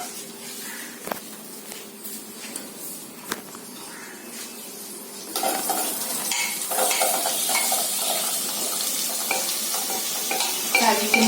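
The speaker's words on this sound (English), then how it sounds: "and then I will be frying my mushrooms." Mushrooms frying in oil in a preheated pan, a quiet hiss that jumps to a louder, busier sizzle partway through as they hit the oil, with faint scraping stirs.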